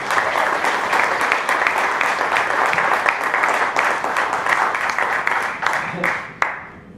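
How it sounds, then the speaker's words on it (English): Sustained applause from a conference audience as a speaker from Boston is called to the stage, dense crowd clapping at steady strength for several seconds before thinning out near the end. "Ladies and gentlemen, a round of applause for Boston's Chris Brogan"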